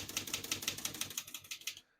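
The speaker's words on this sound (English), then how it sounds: "all the keys type nice and none of them skip or stick" Brisk typing on a 1964 Olivetti Lettera 32 portable typewriter: about a dozen sharp, evenly spaced mechanical key strikes in steady rhythm, close and clear, ending in silence.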